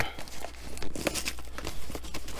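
A well-sealed cardboard box being forced and torn open by hand, close crackling rips and crinkling bursts over a low steady hum.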